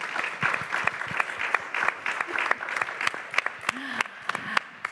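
Audience applause for panelists at the close of an environment session at a leaders' summit, a dense spread of hand claps with sharper individual claps standing out, steady and moderately near.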